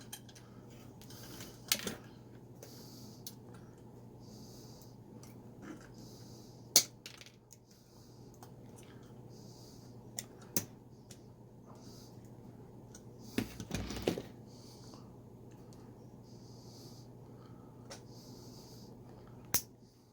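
Electrical wires pushed into a Wago lever connector give a few sparse, faint plastic clicks and snaps, with a short cluster of fiddly handling noises, over a low steady hum in a quiet room.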